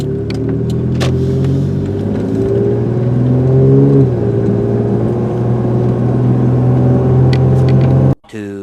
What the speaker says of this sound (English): we're going to go ahead and get up to speed on this road right here